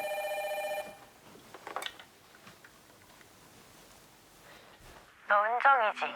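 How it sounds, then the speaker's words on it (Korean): A home telephone rings in a short electronic burst at the start, then gives way to quiet voices and a tense, eerie sound near the end, part of a dramatized broadcast horror story. "갑자기 집 전화벨이 막 시끄럽게 울렸어요."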